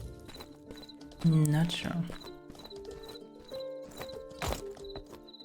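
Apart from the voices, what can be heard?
horse neighing and hooves clip-clopping in video game Mortal Online 2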